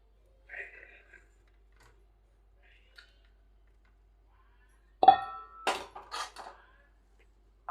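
Chopped onions dropped into a bowl for an egg omelette, giving a few soft isolated taps and clinks close by, followed by a louder cluster of clattering kitchen sounds in an otherwise quiet room.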